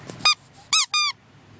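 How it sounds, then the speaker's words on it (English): A baby's squeaky toy is squeezed three times, each squeeze giving a sharp, loud, high squeak, with short quiet gaps in between. "A little squeaky toy."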